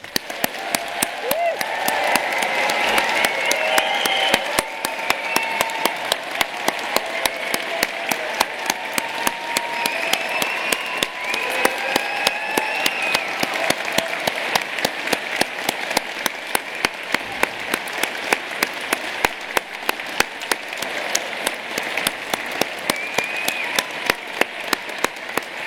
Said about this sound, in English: your final chance to give this amazing group of people one last huge round of applause.